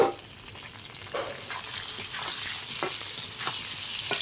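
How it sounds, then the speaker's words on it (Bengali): Raw green banana pieces fry in a pan with a bright, continuous sizzle, broken by a few sharp spatula scrapes as they are stirred. "কাঁচকলাটা দিয়ে আর একটু ভেজে নেব।"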